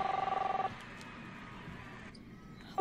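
A telephone in the Captain Spirit video game rings with a fast electronic trill, loud at the start, then stops before a short burst returns at the end.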